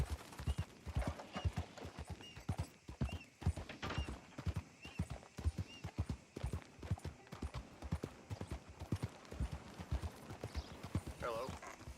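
Horse hooves clip-clop steadily in Red Dead Redemption 2, a loud, close, regular walking rhythm that runs throughout with occasional snorts or whinnies and faint talk underneath.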